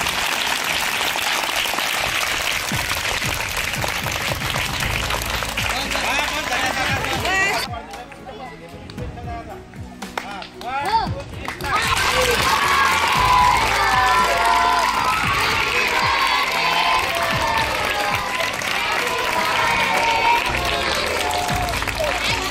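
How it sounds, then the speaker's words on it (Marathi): Schoolchildren at a district council school in Muktainagar clap and cheer at a birthday event, a loud crowd of applause and shouting that dips briefly in the middle before surging back. "टाळ्या वाजवून स्वागत करा"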